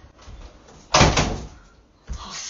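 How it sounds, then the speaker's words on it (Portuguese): A door slams hard with a loud, sharp bang and a short rattling decay, followed a moment later by a second, softer knock against a quiet background. "O Brasil você bate e faz pá! Vai quebrar a porta,"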